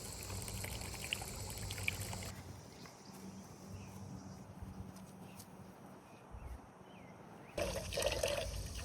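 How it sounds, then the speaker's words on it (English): Water pouring onto a peach tree in a home garden, a continuous splashing trickle with gentle dripping, moderately close and steady, with soft outdoor background noise and no talk. "She knows her job every day is to go water this peach tree."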